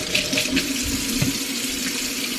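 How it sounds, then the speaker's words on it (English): A kitchen tap runs steadily into a sink as hands are washed, a close, constant splashing rush of water with small fluctuations and no voices. "I'm gonna wash my hands."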